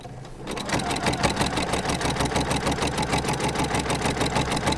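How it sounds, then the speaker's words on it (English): A sewing machine backstitching a fabric bowl cozy starts after a brief pause and keeps up a fast, even, close mechanical rattle of stitches to the end. "I'm going to backstitch."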